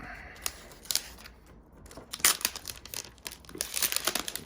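Protective plastic film peeled off a 2020 12.9-inch iPad during a screen replacement, heard as close crinkling and crackling bursts with a few sharper tearing rustles.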